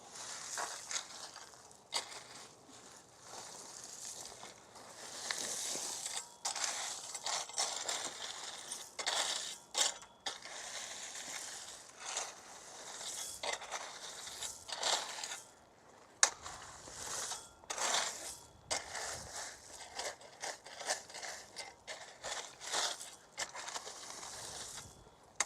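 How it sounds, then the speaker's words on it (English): A metal rake scrapes and drags through loose gravel in a series of gritty, crunching strokes with brief pauses between them, moderately close and without speech. "it's raking time now"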